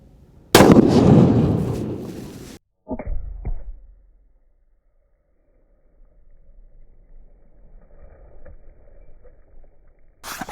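A 7 PRC rifle shot blasts loud and close, punching through a water jug into 4-inch wood, with a sharp crack and splashy burst, then a couple of thuds and quiet outdoor ambience.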